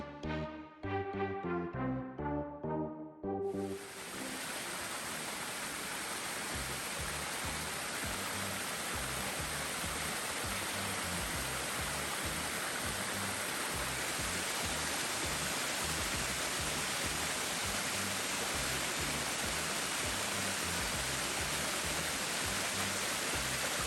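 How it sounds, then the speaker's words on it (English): Tioga Falls waterfall, a steady, loud broadband rush of falling water that sets in after a few seconds of music and then continues unbroken, full and close. "We love waterfalls, and we could have stayed here for hours watching these waterfalls."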